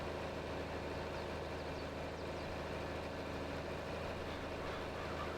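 A John Deere 4020 tractor with duals and 4WD in Farming Simulator 22 drones steadily at a low, even engine note, pulling hard at constant revs with no talking.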